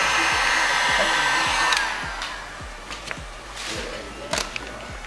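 Heat gun blowing a steady, loud rush of hot air over vinyl wrap film on a car headlight, with several short knocks and taps underneath and a brief lull midway.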